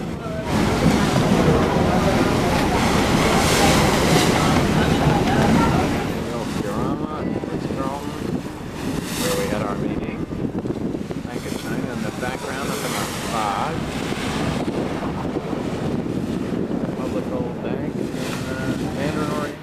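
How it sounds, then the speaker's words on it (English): Ferry ride across water, heard as strong, roaring wind buffeting the microphone, with a rushing wash of waves and engine rumble that is loudest early and then eases to a steady blustery roar, while someone talks. "Last little ferry ride."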